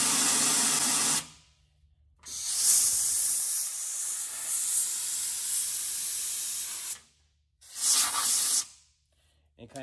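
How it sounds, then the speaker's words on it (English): An air wand blasts compressed air to clear water and dirt from an open flange on a vehicle's underside, loud hissing bursts in several long spurts separated by brief silences, close to the ear. "I use an air wand to get any kind of water or dirt out of this flange on here"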